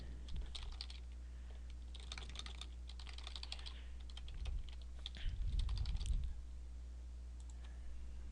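Computer keyboard typing in quick bursts of clicky keystrokes while filling in an online profile form, close and fairly quiet, with a steady low hum underneath and no talk.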